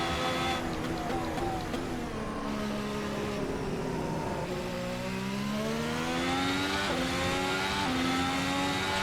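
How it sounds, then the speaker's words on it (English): A 2017 works Ferrari race car engine in Assetto Corsa screams at full revs, a loud, sustained whine that climbs repeatedly with quick gear-shift breaks. "There's full revs on the engine."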